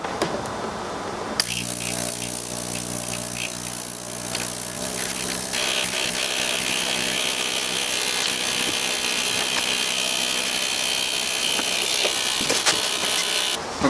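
A Lifebasis ultrasonic cleaner runs with a chainsaw chain soaking in its tank, switching on abruptly into a loud, steady, hissing electric buzz that holds without a break, with no voices.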